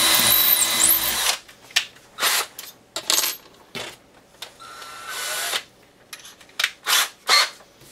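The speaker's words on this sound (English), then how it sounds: "Using a somewhat smaller drill bit to get started." A power drill fitted with a small drill bit whirs loudly for a second against a plywood bench, then gives several short bursts separated by clicks and clatter.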